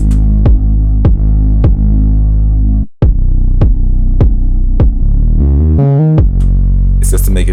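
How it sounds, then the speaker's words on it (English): Heavy trap bass pumps under a steady kick in a beat, ducking on every hit so the low end swells and breathes between thumps, with a brief dropout midway and a short melodic run near the end. "I have the kick working on these basses to give them sidechain, mainly this heavy bass."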